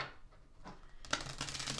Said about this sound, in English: let's give this second deck a good second or third shuffle here